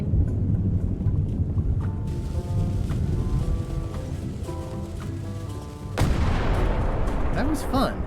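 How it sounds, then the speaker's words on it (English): Cannon fire aboard a ship in the adventure game Return to Monkey Island, a loud boom striking at about six seconds over steady game music and ambient sound. "Ready for cannon firing."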